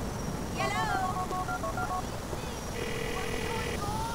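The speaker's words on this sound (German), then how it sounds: "Aber jetzt müssen wir mit Roman telefonieren." A phone is dialed in the video game GTA IV: a quick run of electronic keypad tones, then a longer steady tone, all over constant game background noise.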